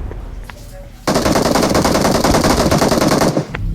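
Rapid machine-gun fire in a shooter video game, a dense, loud burst of rattling shots that starts abruptly after a quiet second and keeps going for over two seconds, then breaks off.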